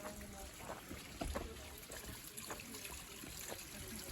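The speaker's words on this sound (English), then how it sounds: "Got the water flowing out of that?" Water trickles from a pipe set in rock at a campsite near Cherokee, North Carolina, a faint, irregular splashing and dribbling with scattered small drips.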